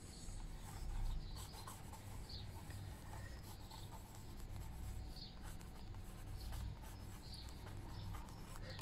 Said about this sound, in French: Donc, je l'écris.